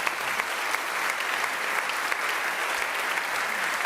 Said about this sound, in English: Give both of them a round of applause